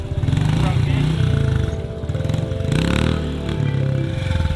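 An old barn-find Honda Big Red three-wheeler with a newly fitted custom exhaust runs loud and close, its engine chugging with rising revs, while someone talks over it.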